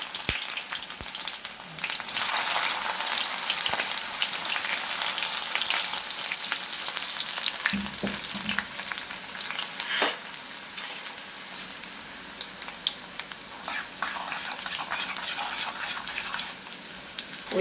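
Chopped ginger, about three tablespoons, fries in hot oil in a pan as the first step of a lemon pickle, giving a steady close sizzle with occasional stirring clinks throughout.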